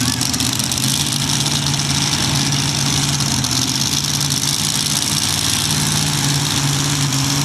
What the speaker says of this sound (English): Another single engine modified tractor. Big block Chevrolet, 871 blower.